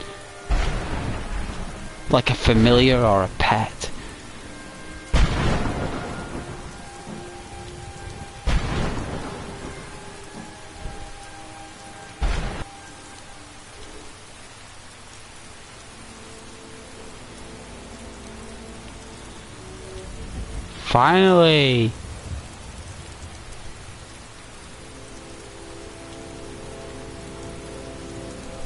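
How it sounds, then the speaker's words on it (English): Rain falls steadily in Skyrim, broken by several loud, sharp thunder cracks and rumbles spread across the stretch. A voice speaks briefly over the storm. "it's lightning just following me around"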